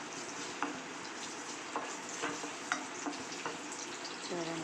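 Green chillies and onions fry in hot oil in a kadai, a steady crackling sizzle with a few soft stirring clicks, close and moderately loud, with no voices.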